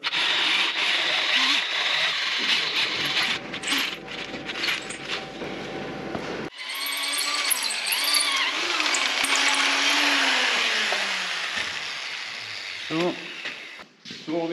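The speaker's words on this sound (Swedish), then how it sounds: "Så, då tar vi ett större borr." A power drill fitted with a larger bit bores while a lifting hook for a shipping container is built, with a whirring, rising mechanical drone and ratcheting clatter, close by, with talking in the background.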